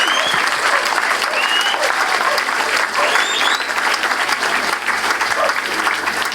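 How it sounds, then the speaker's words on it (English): Loud, dense audience applause at a festival talk, continuous crowd clapping close by with some cheering and voices blended in throughout. "Big round of applause for Kevin and Nick."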